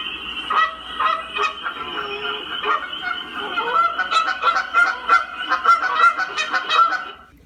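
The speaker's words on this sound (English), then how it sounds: "hear the call of different types of birds" A flock of geese honks repeatedly in Canada, overlapping calls coming in irregular bursts that grow busier toward the end, with no talking.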